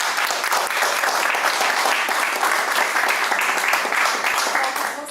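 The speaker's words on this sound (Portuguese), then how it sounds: "Salva de palmas agora" Sustained applause from a church congregation at the close of a sermon, dense and steady throughout, fairly loud and full, with no clear talk over it.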